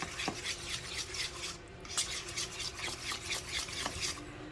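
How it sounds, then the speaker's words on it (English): A spoon stirs egg into ricotta cheese with seasoning for baked ziti, giving soft, steady scraping and light clinks against the bowl, fairly quiet and with no talking. "we are going to mix the egg in with the ricotta cheese and our seasoning"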